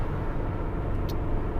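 Steady car road noise while cruising on the 210 freeway, a continuous low rumble with tire roar and no breaks, heard from inside the vehicle.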